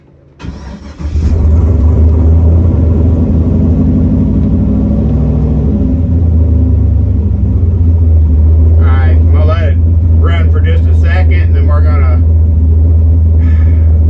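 A turbocharged 4.8 V8 swapped into an S10 truck with a TH400 transmission cranks, fires and settles into a loud, steady rumbling idle close by, with a person briefly speaking over it partway through.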